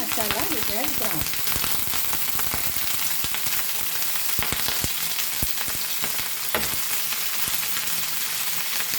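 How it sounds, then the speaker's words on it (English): Mutton chops frying in hot oil, a loud, steady sizzle and crackle that runs throughout, with occasional clinks and stirring knocks from the pan. "Cook some oil, and now we will first fry this"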